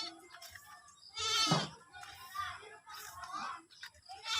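A black goat being sold bleats several times in quick, wavering cries close by at a farm, mixed with rustling and brief background voices.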